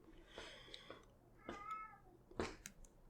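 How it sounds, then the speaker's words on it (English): A cat meows several times in short, separate calls, fairly quiet and close, against a soft background. "Meow. Meow. Can you guys hear Frankie?"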